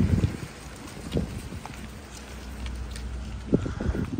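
Strong cyclone wind sweeps through Balneário Camboriú, a steady gusty roar with low buffeting rumble against the microphone and a sharper gust near the end.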